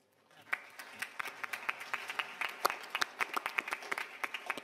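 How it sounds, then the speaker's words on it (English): Audience applause for a panel at the Davos annual meeting, starting quietly and swelling into steady, moderately loud clapping with sharp individual claps standing out from a smaller crowd. "I think we should start with give them a big applause."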